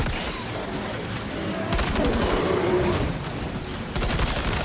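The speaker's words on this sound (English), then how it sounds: "I just gotta keep peppering them with bullets" Rifle gunfire in Death Stranding 2, rapid bursts of shots crackling densely and loudly through the whole stretch, with brief gaps between volleys.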